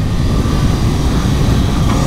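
Kawasaki ZX-10R 2021 sport motorcycle engine roaring loudly and steadily, a dense continuous drone with no pauses and no talking.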